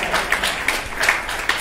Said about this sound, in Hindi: तो जोरदार तालियां संभव के लिए